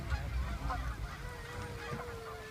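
Canada geese on a pond covered in birds at a safari park, honking a few times at a distance over a steady low rumble of a vehicle engine, with no talk.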